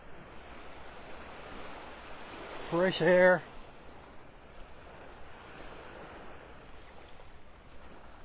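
Small waves lap gently and continuously on a beach shore in North Naples, Florida, under cloudy skies, a soft steady wash with light wind, briefly interrupted by a short spoken phrase.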